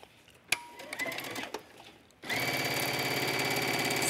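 Sewing machine stitching leggings fabric, starting after a few soft handling clicks and taps, then running steadily with a fast, even mechanical whir close by.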